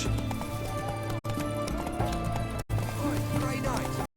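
The horse Roach from The Witcher 3 gallops with rapid, rhythmic hoof clip-clops, close and clear under in-game music and voices, broken by a few brief silent cuts.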